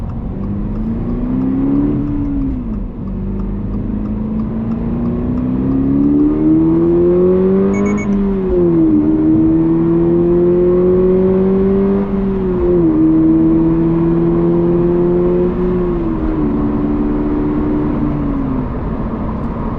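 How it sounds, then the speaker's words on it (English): A synthetic engine tone from a Toyota GR86 rises and falls in pitch as the car accelerates to highway speed, loud and steady for the whole stretch, with smooth gear-like steps along the way. "you'll be able to hear that artificial engine noise that I was referring to earlier"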